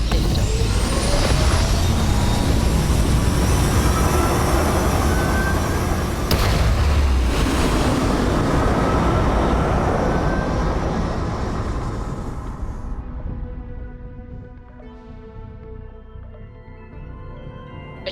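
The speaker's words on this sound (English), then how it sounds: "We have liftoff." Spaceship liftoff in the Starfield video game, a loud, dense rumble with hissing roar that holds for about twelve seconds, then thins and fades into a quieter hum.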